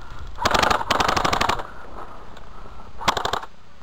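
Airsoft guns fire cover fire outdoors in three rapid bursts of sharp clattering shots, two close together, then a shorter burst after a pause.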